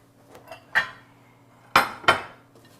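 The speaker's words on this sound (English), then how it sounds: "Let me cut a few slices." A knife slicing through a baked stromboli filled with olives, spinach, meat and melted cheese, giving a few sharp clacks of the blade against a board, two of them loud and close together, with quieter taps in between.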